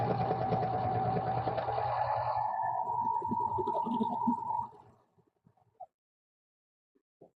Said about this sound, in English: You're going to serge all the way to the end.